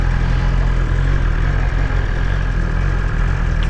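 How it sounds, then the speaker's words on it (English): A 2020 BMW S1000XR motorcycle engine idles close by, a steady low rumble that stays even throughout. "the engine sounds nice and everything. I do like the way this one sounds."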